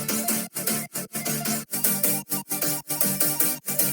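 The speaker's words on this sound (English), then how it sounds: "I layered this sound with a splice sample from Tynan," A melodic bro step loop from a Splice sample pack by Tynan: bright, dense synth chords chopped into a steady rhythmic pulse of short bursts with brief gaps, loud and close with no voice.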